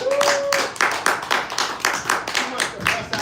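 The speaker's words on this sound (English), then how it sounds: "Give me a round of applause." Applause on a live talk show, a dense burst of clapping from a small audience, loud and close, sustained throughout, with a voice briefly heard near the start.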